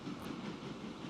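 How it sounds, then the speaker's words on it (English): A train pulls into a station in the Transport Fever 2 game, a steady rumbling rail roll with faint clickety-clack that holds an even level throughout, with no voices over it. "We are watching our beautiful train come in and collect"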